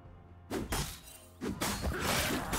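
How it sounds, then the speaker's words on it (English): A turret is destroyed in League of Legends, with a crumbling, shattering crash arriving in two heavy bursts and trailing debris that stays loud until the end. "Red Team's turret has been destroyed."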